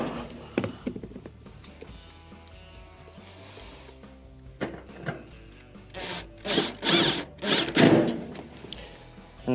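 Screws being driven back into the broil element cover of a Maytag oven with a power tool, several short close whirring bursts after some quieter handling and rattling.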